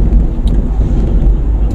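Steady low rumble of tyres rolling on the road inside a Daihatsu Ayla cruising at 80 km/h, a continuous dense cabin drone with no voices.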